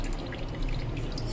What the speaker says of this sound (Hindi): घी डाल देंगे, मिक्स कर लेंगे।